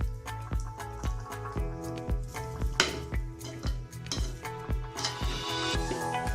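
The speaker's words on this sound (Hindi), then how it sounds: "अब इसमें हम कच्चा नारियल डालेंगे।" Cooking sounds from a pan of rice as raw coconut goes in for sweet coconut rice (narali bhaat): repeated close spoon or spatula clinks and scraping against the metal with a soft sizzle underneath, steady and rhythmic, no talking.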